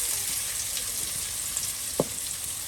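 Haleem being sautéed with spices in a pan, a steady bright hiss of frying held at an even level, with one brief knock of a utensil midway.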